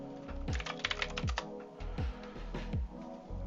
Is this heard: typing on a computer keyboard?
yes